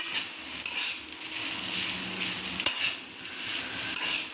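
Chow mein sizzles in a hot wok while being stirred and tossed, a continuous frying hiss with occasional sharp scrapes and clinks of the utensil against the pan, close and steady with no talking.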